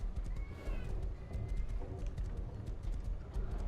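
In the Rust video game, a horse's hooves clip-clop steadily over a constant rumble while a neigh rises faintly above them. The sound is at moderate distance, with no talk.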